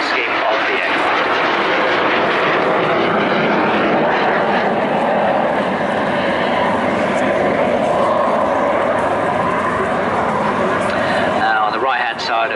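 A historic Royal Navy aircraft flies display manoeuvres at a seaside air show in Bournemouth. Its propeller engine roars loudly and continuously overhead, swelling and fading slightly as it passes.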